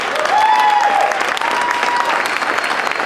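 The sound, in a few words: audience applause at RTV awards celebration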